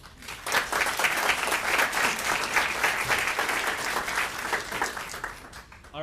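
A community diversity summit audience applauds its speakers, a dense sustained round of clapping that swells and holds, then tapers slightly toward the end.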